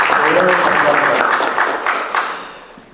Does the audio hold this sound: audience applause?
yes